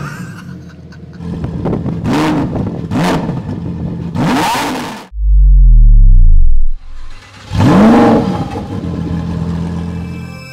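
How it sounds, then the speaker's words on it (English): A 2024 Lamborghini Huracan Tecnica V10 engine revs hard in several sharp bursts, each snarl rising and falling, then a deep rumbling idle and another loud throttle blast. "the mighty and powerful, iconic V10"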